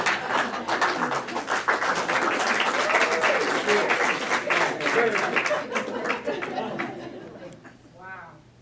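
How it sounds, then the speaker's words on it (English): Audience members at a lecture series clap and murmur in a dense wave of applause that gradually thins out and fades, with people talking over it. "I see somebody now clapping"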